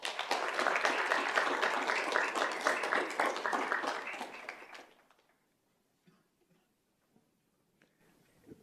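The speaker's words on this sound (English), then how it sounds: "a big round of applause for his team" Audience applause fills a school board meeting, a sustained dense round of clapping for several seconds that fades out, leaving near silence with a few faint knocks.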